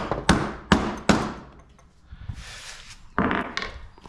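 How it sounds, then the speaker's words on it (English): A hammer drives a pin out of a John Deere X360 lawn mower, three sharp metallic strikes in quick succession, a pause, then a couple more taps. "And now we just gotta hit this pin out."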